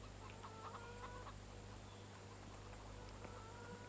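Chickens cluck faintly in the farming game Farming Simulator 17, on the Estancia Lapacho map: scattered soft clucks over a constant low ambient hum, with no talk.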